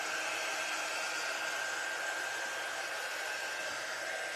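A hair dryer blows steadily, a loud constant whooshing roar with a faint high whine, running without pause.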